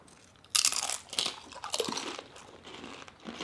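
Crunchy tortilla chips with salsa are bitten and chewed close up, giving several sharp crunches followed by softer crackling munching, with no talking.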